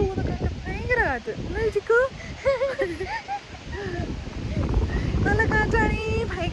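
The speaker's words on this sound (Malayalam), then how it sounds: "ഭയങ്കര കാറ്റാണ്" Strong gusts buffet the microphone outdoors near the water at Swift Current, a steady low roar with rumbling bursts while a person talks over it throughout.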